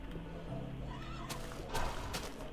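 A horse neighing in the video game Minecraft: a whinny rises out of faint background noise, with a few sharp bright bursts near the end.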